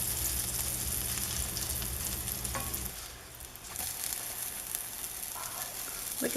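Cauliflower and spinach keto tortilla frying in a pan, a steady close sizzle that drops briefly in the middle before resuming with a few small crackles and pops.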